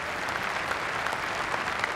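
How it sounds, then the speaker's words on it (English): Applause from a cricket crowd for a batsman's half century in a Yorkshire versus Lancashire One Day Cup match, a continuous patter of many hands clapping, distant and fairly soft. "a generous round of applause for him"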